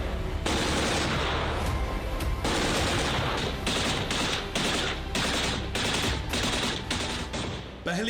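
Loud, dense bursts of gunfire in the Russia-Ukraine war, rapid automatic shots and repeated volleys running almost without pause throughout.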